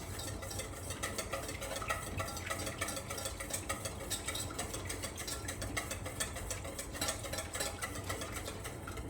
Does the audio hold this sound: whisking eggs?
yes